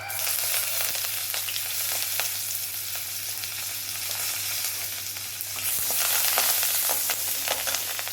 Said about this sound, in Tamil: நல்லா வறுபடட்டும் எல்லாம் நல்லா வறுபடுது